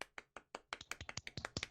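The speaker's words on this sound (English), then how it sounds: "let's give him a little round of applause" A small round of applause on a podcast: a dozen or so distinct, crisp hand claps in an uneven, quickening rhythm, quiet and close, with no crowd behind them.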